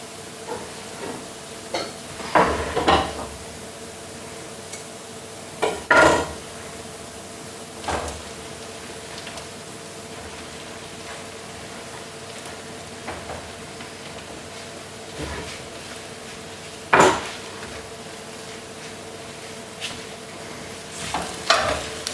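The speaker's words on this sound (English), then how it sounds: "I'm just going to cook this until the mushrooms have lost a lot of their moisture." Onions, minced garlic and sliced mushrooms sizzle softly in a pan, punctuated by intermittent scraping stirs and clacks of a utensil at irregular intervals.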